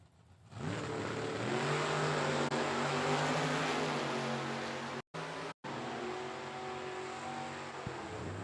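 Drag racing cars, among them a Nova, rev hard and accelerate down the strip at a drag racing event. The engine roar is loud and sustained, with a rising engine note and two brief dropouts.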